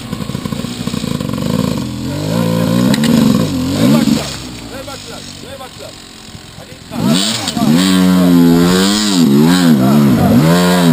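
A 350cc motorcycle engine hums steadily at a low pitch beneath loud conversation between men, and the drone continues through the whole stretch.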